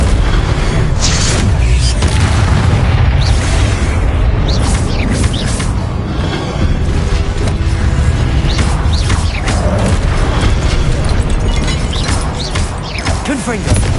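Confringo blasting spells explode one after another in Hogwarts Legacy during a troll boss fight, a loud, dense run of booming blasts and crashing impacts layered with game effects and spell calls.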